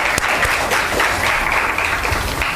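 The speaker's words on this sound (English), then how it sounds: "Let us clap for us." Audience applause at an International Women's Day confluence and awards event, a dense burst of many hands clapping close by, steady for a couple of seconds with no talking.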